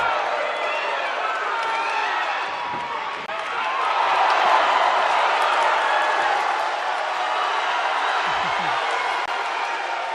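A packed boxing crowd at an Army versus Navy bout in a historic hall swells into a loud, sustained roar of cheers and shouts, rising in the middle and staying dense throughout.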